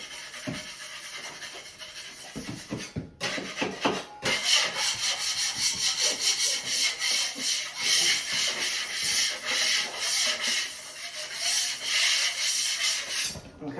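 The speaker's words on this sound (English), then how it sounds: "I'll just go around in the corners and scrape away any high spots that were incurred from the trowel" Steady rhythmic scraping of a blade across drywall, scraping high spots off dried compound in the corners, close and continuous with repeated strokes, no talking.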